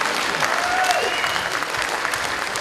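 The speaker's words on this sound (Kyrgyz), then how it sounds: "бир кол чаап койсоңор" A crowd at a Kyrgyz stand-up comedy show breaks into continuous, lively applause, loud and close, with faint voices mixed into the clapping.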